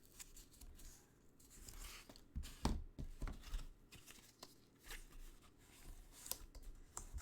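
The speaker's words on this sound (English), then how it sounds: "our little scissors." Scissors snip through stiff, doubled paper in a series of irregular crunchy, cracking cuts, close and fairly quiet, with small rustles between them.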